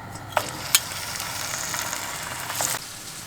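Tomato slices sizzle in hot oil with a steady crackling hiss, broken by a few sharper pops and spatters.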